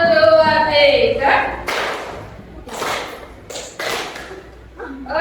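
Rhythmic hand claps from a class playing a counting clap game in a classroom, with several bright bursts spaced in a loose beat after a voice speaks at the start, and chatter in between.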